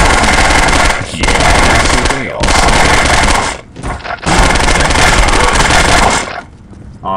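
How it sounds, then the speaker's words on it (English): Sustained, loud machine gun bursts from the video game Postal 2, three long volleys separated by short gaps, with a brief spoken word at the start. "Where is my machine gun, huh?"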